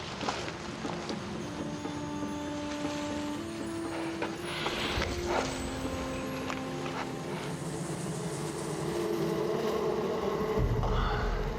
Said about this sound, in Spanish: El sonido de la carretera resulta ser un panal de abejas.